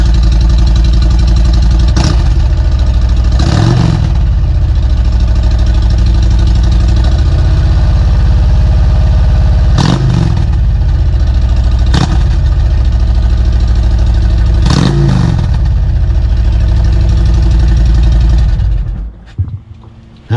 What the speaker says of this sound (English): here's what this one sounds like. Again, the bike is cold. That's at a fast idle at about 1200 RPMs.